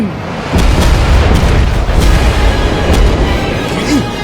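Warship naval gunfire in World of Warships, heard as a single loud low boom that swells quickly and then rumbles on continuously, with a heavy layer of battle noise and no voices over it.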